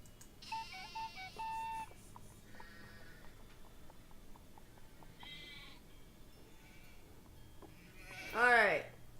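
Sheep bleat in a Nancy Drew video game during shearing, with several short electronic calls and tones early on and a louder, wavering bleat near the end over a quiet background.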